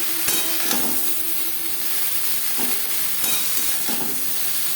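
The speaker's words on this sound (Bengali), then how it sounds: "ডাঁটা ও শাকের সাথে পেঁপে ও মশলা বেশ ভালো করে মিক্স করে দেবো।" Pumpkin stalks and greens being stirred with papaya and spices in a hot pan for a curry, a steady frying sizzle broken by several scraping spoon strokes and light taps against the pan.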